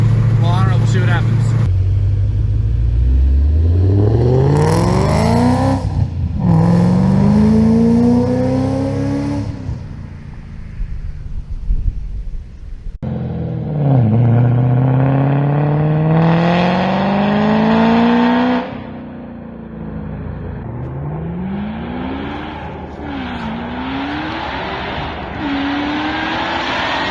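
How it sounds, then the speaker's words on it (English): A 700 WHP Ford GT500 fitted with Flowmaster Outlaw mufflers, long-tube headers and an X-pipe, heard from outside the car as it revs repeatedly: loud, close, rising and falling exhaust blasts with sharp throttle blips. "I'm going to do some outside of the car exhaust sounds because I want to know what it sounds like"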